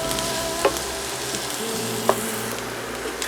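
Onions and shiitake mushrooms sizzle steadily in a pan, a continuous close frying hiss with a couple of brief utensil clicks and no talk.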